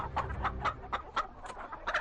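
A chicken clucks close by in a rapid, regular run of short clucks over a low background rumble.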